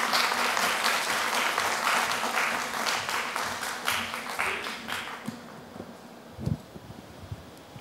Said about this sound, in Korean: 주님을 기대하는 마음으로 환영의 박수해 주시기 바랍니다